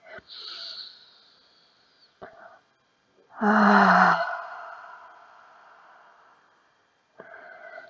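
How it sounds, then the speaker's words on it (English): Deep breaths drawn in and pushed out through the mouth during a relaxing yoga session: a few soft airy inhales followed by one long, loud breathy exhale that fades slowly, then another quiet breath. "taking a couple of deep breaths. Inhale and exhale through the mouth"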